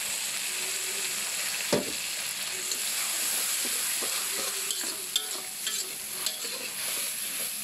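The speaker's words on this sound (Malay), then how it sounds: "Lalu kita tuangkan susu cair." Evaporated milk is poured into a frying pan and stirred for buttermilk prawns, giving a steady, fairly quiet sizzle with scraping spoon strokes and a few clinks against the pan. No voices are heard.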